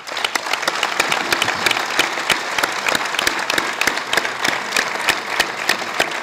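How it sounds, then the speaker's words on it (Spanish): Public applause at a festival ceremony naming captaincies in Onil, a dense, loud crowd clapping with sharp individual claps standing out, sustained evenly throughout. "aquest aplaudiment va per tots vosaltres"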